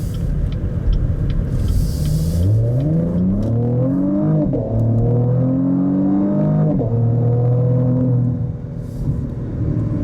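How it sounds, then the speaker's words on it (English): A 2018 Cadillac CTS V-Sport with twin turbos and the optional performance exhaust accelerates hard, its engine note climbing through rising revs with a brief dip at a gear change, loud and close from inside the car. "this car, if you can hear it, also has the optional performance exhaust system"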